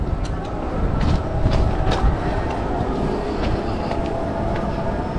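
A passenger train at an Indonesian station on the Tangerang to Bandung route gives off a steady, close, heavy rumble with scattered light clicks and knocks throughout.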